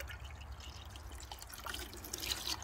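Hydrogen peroxide poured over seashells gives a soft, continuous liquid trickle and dripping, close and faint, with a low background rumble.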